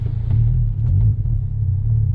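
A 2018 Honda Civic Type R with an AFE Takeda cold air intake, heard from inside the cabin as a steady, deep engine rumble with a slight swell partway through.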